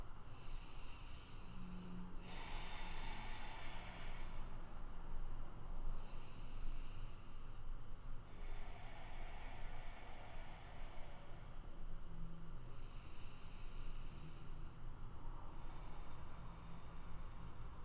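Slow, steady breathing held in stillness during a yoga pose, with long airy breaths rising and falling in a few even cycles, close and fairly quiet, with no talking.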